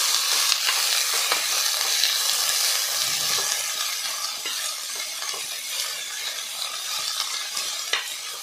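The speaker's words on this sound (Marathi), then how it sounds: "मग आता यामध्ये 2 वाटी चिरलेला कच्चा टोमॅटो घालायचा आहे व हे सर्व जिन्नस खमंग भाजून घ्यायचे आहे।" Chopped raw green tomato mixture roasting in a pan for chutney gives a steady, close sizzle and hiss, with scattered scraping stir clicks throughout and no voices.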